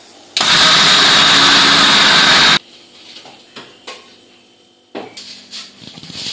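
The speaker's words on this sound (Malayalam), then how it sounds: "ഇത് അരി ചോറ് തേങ്ങ വെല്ലം ചേർത്ത് അരക്കാൻ പോകും." A mixer grinder grinds rice, cooked rice, coconut and jaggery in a loud, steady two-second burst that starts and stops abruptly. Afterwards come quieter clinks and knocks of kitchen utensils.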